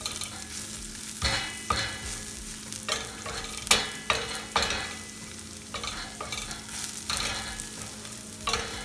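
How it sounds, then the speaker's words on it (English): Chorizo sautés in oil in a pan with a steady sizzle, broken by repeated louder scraping bursts as it is stirred, some sharp and close, over a constant low hum. "So to this, just let it saute a little bit with the"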